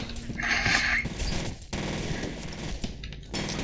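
Rapid bursts of automatic gunfire crackle in loud, dense volleys with brief gaps, game weapons firing nearby in the video game F.E.A.R.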